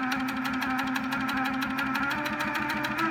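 Sewing machine running steadily during free-motion quilting, tacking down thread and stitching arcs, with a fast even motor whir and rapid needle rhythm throughout, close and continuous.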